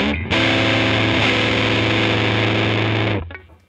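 An electric guitar runs through a rare vintage EarthQuaker Devices pedal with the distortion turned up, giving a thick, loud, sustained distorted chord that rings steadily for about three seconds before cutting off.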